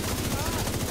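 Rapid gunfire in The Division 2, a continuous loud burst of automatic shots with a dense, rattling low-end punch and no pause.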